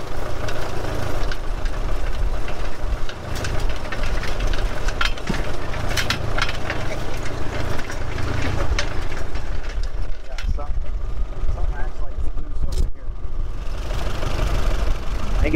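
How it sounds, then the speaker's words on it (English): A Model T converted to run on abandoned railroad tracks, its steel wheels clattering steadily on the rails under a running engine, loud and continuous with people talking over it. "Just the wheel just makes a lot of racket, clickety clackety."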